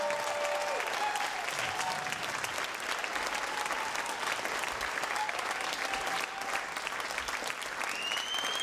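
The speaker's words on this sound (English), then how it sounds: "Can we just one more round of applause for Nina?" An audience at a progressive-movement panel event applauds Nina with a sustained round of clapping that stays loud and steady throughout, a dense wash of many hands from start to finish.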